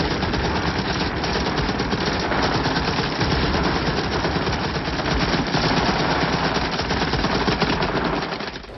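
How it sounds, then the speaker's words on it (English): M60 machine gun firing in a Vietnam War film scene: loud, unbroken automatic fire with dense overlapping shots that runs steadily for several seconds before cutting off, with no voices. "You look at Full Metal Jacket, you see the machine, the M60 gunner actually using his M60 as an assault or a light assault machine gun"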